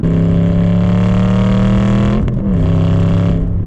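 An Aston Martin Vantage GT's 4.7-liter naturally aspirated V8 roars loudly and continuously up close, its deep rumble holding steady with a brief dip before resuming.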